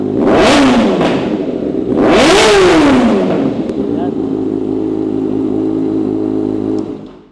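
A Kawasaki Ninja ZX-6R sport motorcycle with a loud aftermarket AR exhaust revs hard twice, the engine rising and falling sharply, then settles into a rumbling idle.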